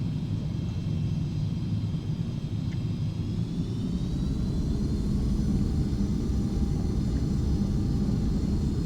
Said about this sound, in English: Fantastic sounds in this aircraft.